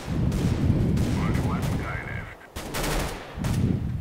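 Bullpup rifle gunfire in Counter-Strike: Global Offensive, a loud sustained stretch of rapid automatic shots with a brief lull before bursts resume, mixed with game sounds and faint voice.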